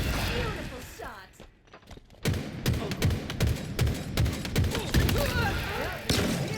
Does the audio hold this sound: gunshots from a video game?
yes